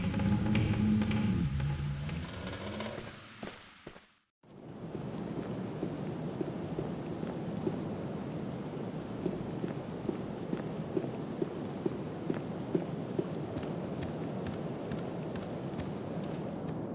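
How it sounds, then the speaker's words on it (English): Steady rain with gusting wind pours in through a hole in a broken window inside a room in the 2003 adventure game The Black Mirror, a constant close hiss with faint drips, briefly cut to silence after an opening passage of music and low voices. "The hole in the window lets cold wind and rain enter the room."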